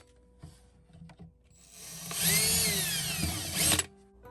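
A power drill bores bolt holes through a wooden Shaker-style drawer front, one sustained whining burst of about two seconds that rises, peaks near the end and cuts off, preceded by a few faint knocks and handling sounds.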